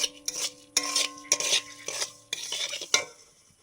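Neem flowers being fried in a pan: a sequence of scraping, stirring strokes against the pan, with soft sizzle between them, repeated several times in quick rhythm.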